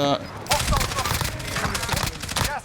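In the Warzone video game, rapid bursts of automatic gunfire crack in quick succession at close range, loud and sharp, with in-game voices heard alongside the shooting.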